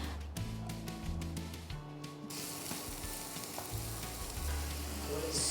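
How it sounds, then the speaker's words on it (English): Onions go into hot oil in a pan. A quiet start with background music gives way to a sudden loud sizzle that then holds steady. "I'm going to add all the onions into the pan"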